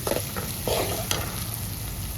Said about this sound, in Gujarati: તો કન્ટિન્યુ એક ધારો હલાવી જ રાખવાનું છે આપણે